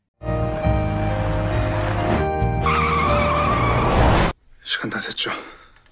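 A truck rushes in from ahead and skids hard, a loud sustained screech with engine roar that cuts off abruptly, followed by softer clattering noise.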